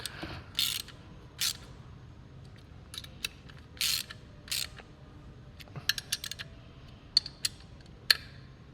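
A hand ratchet cranks the 11 mm bolts on a 1968–69 Camaro front door glass assembly in short bursts of quick clicking pawl sounds, close by, with quiet gaps between each run of turns.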